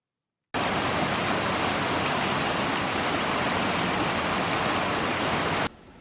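Rain and snowmelt water rushing through a drainage ditch, a loud steady broadband wash that starts abruptly, holds constant, then drops to a quieter flow at the end.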